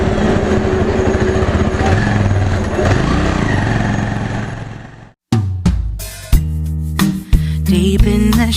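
A Bajaj Avenger 220 motorcycle drones steadily while riding toward a fuel station, a continuous engine hum for about five seconds before it cuts abruptly to music.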